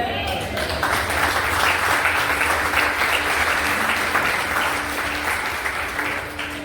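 Sustained applause from a large church congregation, dense and steady throughout, with a voice briefly audible near the start.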